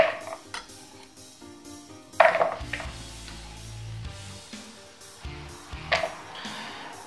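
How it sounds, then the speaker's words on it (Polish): Chopped beetroot pieces drop into a kitchen bowl, giving a few light clinks and soft knocks against the dish over faint background hum, with no talking. "I teraz tak, wrzucam je do tej miski"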